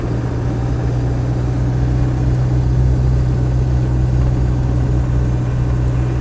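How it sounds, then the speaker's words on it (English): A Land Rover 90 seven-seater with a 200TDi diesel engine pulls along on the road, a loud, constant low diesel drone with a steady hum and road noise, no talking. "Engine pulls nicely."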